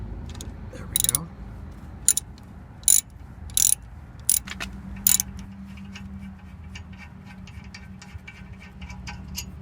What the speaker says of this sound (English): Using a ratchet here with a 14mm socket on it, go ahead and put that on that bolt.